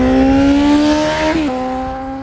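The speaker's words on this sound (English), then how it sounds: "I'm going to throw a flyby clip." Suzuki GSX-S 750 motorcycle running with no exhaust roars past in a flyby, a loud high engine whine that holds, dips sharply in pitch as it passes, then fades slightly while moving away.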